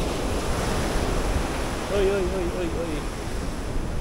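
Continuous surf washes and rumbles close by on a beach in Ilocos Sur, Philippines, with wind buffeting the microphone; a voice calls out briefly over the waves midway.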